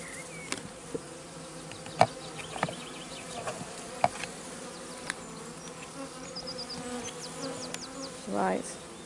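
A honey bee swarm buzzes softly and steadily outdoors, with individual bees droning past the microphone in short, sharper passes over a faint continuous hum.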